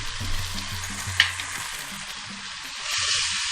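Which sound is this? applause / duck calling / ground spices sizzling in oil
ground spices sizzling in oil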